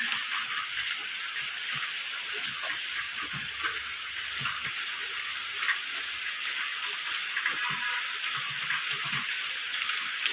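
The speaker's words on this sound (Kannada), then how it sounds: "ಮಳೆ ಬಂತು ಮೈ oh ಗಾಡ್ ಎಷ್ಟು ವೆಯ್ಟ್ ಮಾಡ್ತಾ ಇದ್ದೀವಿ ಗೊತ್ತಾ" Steady rain patters and hisses throughout, with scattered drops ticking nearby; no one speaks.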